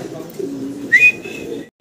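A pair of chila pigeons coo softly with low, steady murmurs, and a brief, bright whistling call rises above them partway through, close by with no talk.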